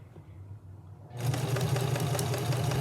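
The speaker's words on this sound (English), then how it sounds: "you can just continue to sew all the way around" A sewing machine starts up partway through and stitches fabric for a quilt with a steady, fast mechanical whir, fairly close and without any talking.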